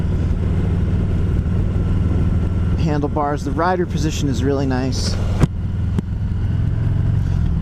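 A 2020 Harley-Davidson Heritage Classic 114 FLHCS rumbles with a droning, bassy exhaust, a constant low hum running throughout while someone speaks briefly over it midway.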